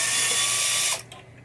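A screwdriver turns out long coil screws on a 1976 Bally Night Rider pinball machine, giving a steady close ratcheting whir for about a second before it stops abruptly, leaving brief faint clicks.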